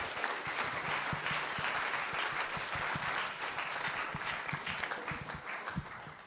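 Sustained applause from an audience at a graphic design instructor showcase, steady clapping from many hands filling the room throughout.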